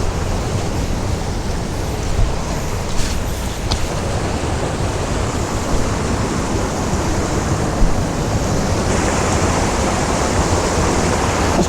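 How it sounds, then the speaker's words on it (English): A waterfall pours over boulders as a steady, loud, broadband rush that holds unchanged throughout, with no voices. "The water flowing through, the boulder in the foreground"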